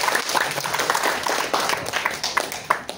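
Sparse audience clapping from a crowd at a talk on prostate health, uneven and moderately loud, with scattered individual claps standing out over a murmuring background.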